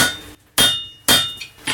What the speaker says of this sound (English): we're using the hammer and the anvil